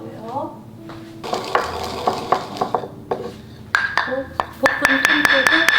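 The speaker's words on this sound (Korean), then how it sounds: "속재료를 모두 섞어 주어야 하는데요" A Korean dumpling filling of chives, kimchi and egg, seasoned with salt, being stirred with a utensil in a bowl, giving scraping, clinking and wet mixing sounds that grow louder and more rapid toward the end.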